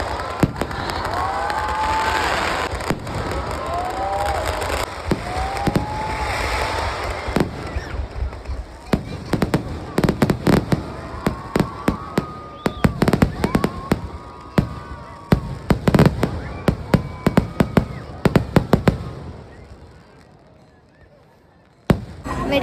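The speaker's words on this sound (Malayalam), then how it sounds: "സൂപ്പർ നൈസ് വെടിക്കെട്ട്." Festival fireworks at the tenth-day pooram in Angadipuram burst in a rapid barrage of loud bangs and crackles, with rising whistles early on, before the volleys thin out and fade near the end.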